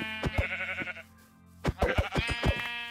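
Minecraft sheep give several nasal, wavering bleats in two bursts with a short gap, close and clear with no talk over them.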